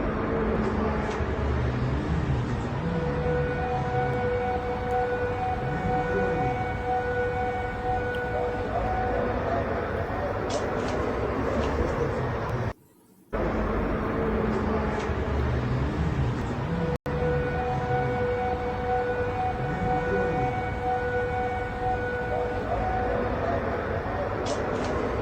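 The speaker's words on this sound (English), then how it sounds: "you can hear the air raid siren going off." A wailing air raid siren rises and falls repeatedly, droning steadily with a sharp break partway through, heard from some distance.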